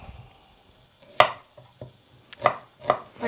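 A knife chops onion into rings on a board, with sharp distinct strikes: one near 1.2 s, a few lighter taps, then three firm cuts toward the end, close and clear against a quiet background.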